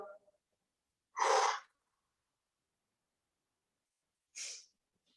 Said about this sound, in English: Let it go with an extra exhale